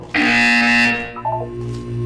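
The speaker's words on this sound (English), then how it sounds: "When you hear the buzzer, look up at the ceiling." A loud, harsh electronic buzzer from the Portal 2 video game blares once for about a second, then fades into quieter tonal electronic sounds, with no talking.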